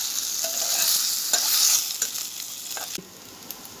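Steamed rice dumplings are gently stirred into a hot spiced tempering in a pan over a low flame, giving a bright sizzle with soft scraping strokes that fades toward the end.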